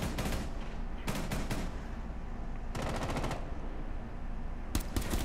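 Video game gunfire, rapid bursts of loud automatic shots close by, several separate volleys with brief gaps between them and a couple of sharp single cracks near the end.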